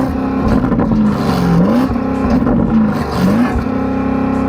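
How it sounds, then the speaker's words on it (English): A Porsche Cayenne Turbo GT sits stationary as its engine is revved repeatedly against a soft limiter, loud close-up rising and falling blips over a steady idle, with no talk. "Go on, rev the car up."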